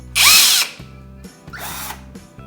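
An EnerTwist 20-volt cordless brushless power drill runs in two short bursts, the first louder and longer than the second, with a low whine between, close and without talk.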